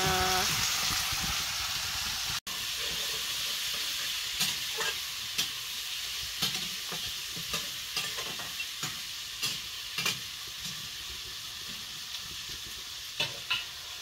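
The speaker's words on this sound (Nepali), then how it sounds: "अलिकति खसीको मासु थियो अनि म चाहिँ त्यसलाई नै पकाउँदैछु" Goat meat fries and gets stirred in a pot over a village fire, making a continuous sizzle with regular scraping knocks from the stirring spoon, close and moderately loud.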